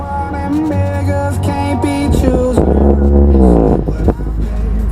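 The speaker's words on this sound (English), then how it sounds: "Let's try out this radio" An old Delco car radio in a 1987 Chevy Monte Carlo SS plays music through blown speakers, sounding distorted and buzzy with steady tonal melody throughout.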